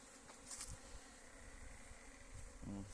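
Honeybees buzz steadily around an active hive in early spring as foragers carry pollen in, forming a faint, continuous drone close by with no voices.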